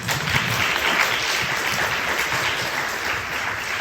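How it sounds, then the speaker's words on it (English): Sustained audience applause fills a conference hall after a student pitch, a steady dense wash of many hands clapping at close range with no talk over it. "let's put a round of applause"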